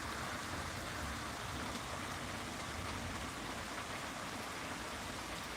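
Steady rain falls at the end of a hot spell, an even, dense hiss of drops that continues unbroken throughout, fairly soft and distant, with no voices.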